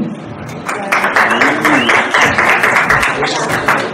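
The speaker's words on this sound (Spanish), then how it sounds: "un aplauso también, por favor, a Bárbara Moll," Audience applause at a film press conference for a 2018 Mexican film, a rising wash of many hands clapping loudly, with a voice speaking over the start.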